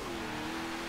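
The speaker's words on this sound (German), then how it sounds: "Wie so ein Diesel halt so klingt, ne? Mit 9 Liter Hubraum." A nine-litre diesel truck engine in Forza Horizon 3 holds a steady drone at a sustained pitch, fairly quiet and with no talk over it.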